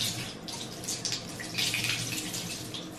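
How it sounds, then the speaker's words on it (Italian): Very hot, steaming water gushes from a corner tap into a bathtub, a steady, hissing splash that continues evenly throughout with no voices. "Ho acceso l'acqua che esce da questo angolino ed esce talmente calda che si sta già facendo il fumo"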